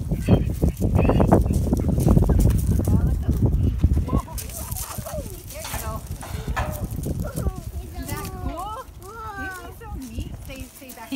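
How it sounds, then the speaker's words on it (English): Horse hooves clip-clop close by while people chatter, followed by whistling calls and higher voices over a rustling background. "He is such a big horse, Macy, huh, Clay?"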